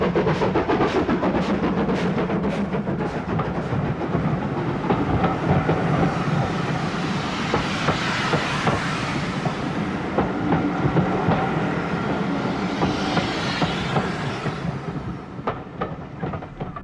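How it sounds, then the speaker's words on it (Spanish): Steam locomotive 6619 working hard under heavy load, with a loud, continuous rumbling chuff and rail clatter close by, rhythmic puffs blending into a steady roar, with no voices. "Otro bonito plano de la 6619 resoplando en pleno esfuerzo."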